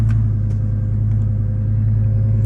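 A Lamborghini Gallardo idles with a deep, steady engine rumble while its front lift raises the nose, heard close and constant with a few faint clicks over the low drone.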